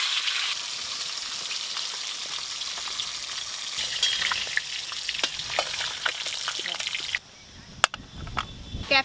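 Pieces of a large 3 kg goldfish fry in a little oil with a loud, dense crackling sizzle and scattered sharp pops, a faint voice now and then; the sizzle drops away abruptly near the end, leaving a few isolated spits.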